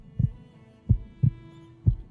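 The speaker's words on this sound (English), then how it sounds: "I suddenly heard 2 separate heartbeats loud in my ears." Four soft, low heartbeat thumps in two uneven pairs, steady and close, over a faint background hum with no talking.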